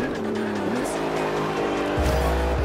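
Racing car engine in Forza Horizon 2 roaring at high revs with steady harmonic whine, shifting pitch as it accelerates, tires squealing through a corner, loud and continuous.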